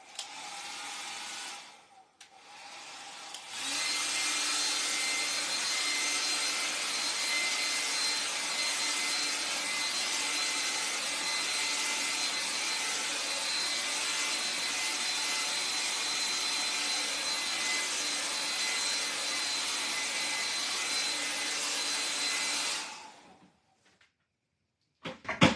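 A hairdryer dries a watercolor painting, switching on after a short pause and roaring with a steady, close, breathy whine for about twenty seconds before cutting off.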